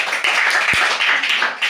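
Children clapping together in a classroom, a short burst of quick, close rhythmic claps carrying on for under two seconds.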